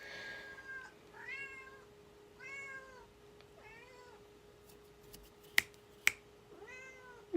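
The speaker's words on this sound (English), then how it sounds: "my cat's a loud little bitch" A house cat meows loudly and repeatedly, about six drawn-out calls in a steady series, close by in a quiet room with a faint constant hum and a couple of sharp clicks.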